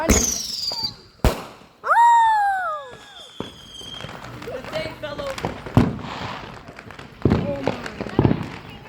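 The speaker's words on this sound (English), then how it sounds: "We have more fireworks." Backyard fireworks going off up close: loud cracking bangs and whistling, squealing launches with crackling bursts, while people exclaim and react over the noise.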